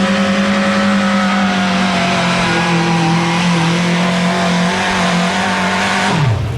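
A truck pulling Ford engine with a 180-degree crankshaft roars at sustained full throttle, loud and close, with a steady rasping drone throughout and a drop in pitch just before the end.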